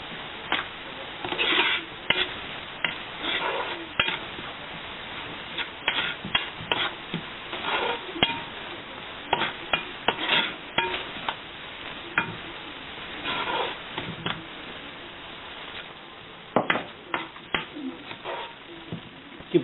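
Beef pieces frying in masala for Mangalorean beef sukka, a soft steady sizzle broken by repeated scraping stirs of a spoon against the pan, close and fairly quiet.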